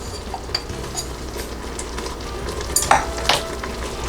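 Sauce for a chicken alfredo spaghetti squash dish simmers in a pan while being stirred, a soft bubbling sizzle broken by a few utensil scrapes and clicks toward the end; no talking.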